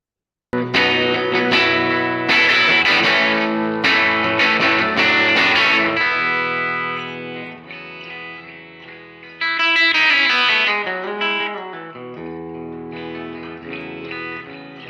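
A vintage 1959 Gibson electric guitar is played close and loud through distortion, with rapid picked runs and sustained bent notes. The lines swell and fade over about fifteen seconds, with a brief gap partway through.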